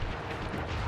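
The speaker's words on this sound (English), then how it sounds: "Still, to honor your Cooper ancestry, I will send you to your doom with the beauty of my new firework technique, Flamefoo." Fireworks explosion from a boss attack in Sly Cooper and the Thievius Raccoonus, a dense, loud, rumbling blast that fills the whole moment with no voices.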